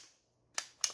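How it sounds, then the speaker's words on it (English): Two sharp metallic clacks about a quarter second apart, close and alone after near silence, as a magazine is stripped from a CZ Scorpion Evo 3 fitted with an HB Industries Pro Stock magazine release. "You can hit it with your finger, but I like stripping my mags like this."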